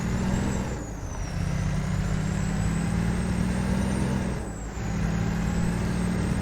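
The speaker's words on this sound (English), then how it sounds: "Kind of a guttural, whistly sound from that engine." Heavy truck engine in American Truck Simulator, a guttural, whistling drone that holds steady as the rig slowly builds speed, with two brief dips where the tone drops before rising again; no voices.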